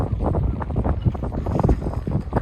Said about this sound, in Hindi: देखिए कितनी सुंदर हवा चल रही है।